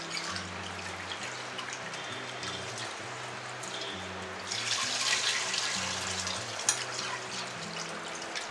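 Fried lentils being rinsed under running water for a home-cooked devotional bhog, heard as a continuous close splash and trickle over background music that swells in the second half, no speech.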